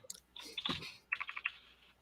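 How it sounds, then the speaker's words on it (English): A clicky mechanical keyboard made to emulate an old-time typewriter gives a brief run of sharp, close key clicks in two small bursts, with no talk. "I like the clickety clack of your keyboard."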